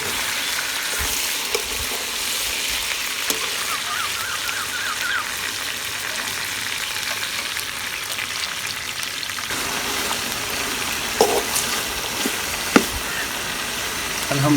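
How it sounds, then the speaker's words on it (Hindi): Chicken frying with salt in a pan for Karachi biryani, a steady dense sizzle and crackle that holds level throughout, close and unbroken, with a few sharper pops near the end. "इसके नाल चिकन बहुत अच्छा फ्राई होएगा।"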